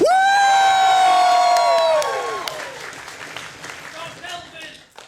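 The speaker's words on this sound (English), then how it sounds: "Applaud!" A convention Q&A panel audience erupts with a loud, high whoop at the start, then cheering and applause that gradually fade into scattered crowd noise.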